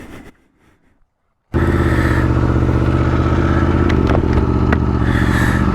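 After a brief quiet moment, a 2022 Aprilia Tuono V4 motorcycle engine bursts in loud and close, holding a strong, rough, steady roar with slight rises in pitch.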